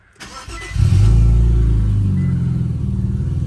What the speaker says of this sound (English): I'm gonna turn the car on now and see if it starts bubbling